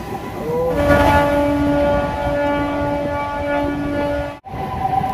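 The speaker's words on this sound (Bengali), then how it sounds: "ট্রেনটি আবারও ছুটে চললো আমাদের গন্তব্যে" Local train on the Howrah to Puri line running along steadily, a loud continuous rumble with sustained horn-like tones and a brief dropout near the end.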